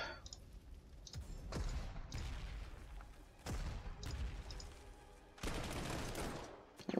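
Heavy booming shots in the WWII strategy game Panzer Corps 2 during the Siege of Warsaw, fired at an anti-tank gun; about five loud blasts spaced a second or two apart, each trailing into rumble.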